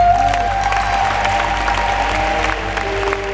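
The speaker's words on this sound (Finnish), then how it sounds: "Annetaan myös suuret aplodit meidän loistavalle valomiehelle Harrille." Audience applause fills a church in Kuopio during a Christmas concert, a loud, steady burst of many clapping hands in a reverberant space, with a faint sustained tone and some murmuring beneath the clapping.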